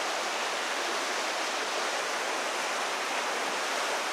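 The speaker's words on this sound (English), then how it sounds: "Can't see the water rushing by down there." Steady rushing water in Johnston Canyon in Banff National Park, heard from the trail above, a continuous broadband roar that stays constant throughout with no voices.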